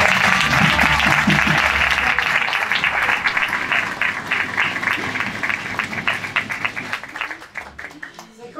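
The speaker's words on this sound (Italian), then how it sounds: "Un applauso al primo terziere." A crowd at the 70th edition of the historic Castellamonte carnival in 2024 applauds, dense and loud at first, then thinning into scattered individual claps before it dies away, with voices briefly audible early on.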